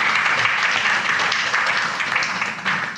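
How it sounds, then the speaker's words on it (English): An audience applauds a panel at a faith forum, a steady wash of clapping from a crowd that continues throughout, with faint speech underneath. "So if you could help me give them a round of applause."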